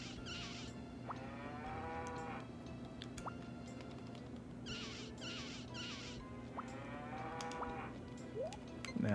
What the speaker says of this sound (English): Let's milk the cows.